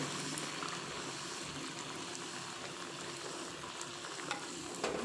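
Rava bhatura frying in very hot oil, a steady close bubbling sizzle with occasional stirring and pressing sounds, no talk.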